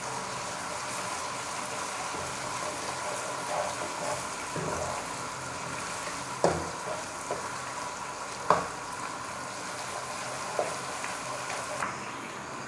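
Ginger garlic paste sizzles and fries in a hot pan while cooking biryani, a steady close crackling hiss with occasional sharper pops and scrapes of stirring.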